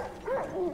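A dog in the Far Cry New Dawn video game gives a short, soft yip or whimpering bark, brief and fairly faint against game background.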